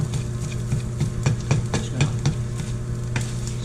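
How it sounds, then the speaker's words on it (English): Eggs frying on a hot hibachi griddle while a spatula chops them into tiny pieces, a steady sizzle under repeated sharp scraping taps in an uneven rhythm, close and clear, no talk. "we're going to start just crushing them into tiny pieces, chopping them into tiny pieces here"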